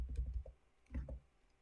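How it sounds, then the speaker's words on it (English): Quiet computer keyboard typing in short bursts of soft clicks, a few keystrokes then a pause and another quick flurry, close and faint. "It's just me just typing this out."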